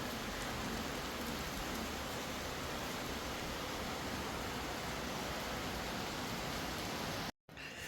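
Heavy rain pouring at Vagamon during a red-alert rainy day, a dense unbroken hiss of downpour filling the scene, steady and fairly distant, with a brief dropout near the end.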